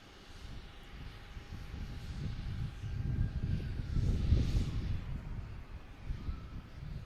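An SAS airliner inbound from Copenhagen approaches Boston Logan Airport, its engine roar swelling to a loud peak midway and then easing back, with no talk over it.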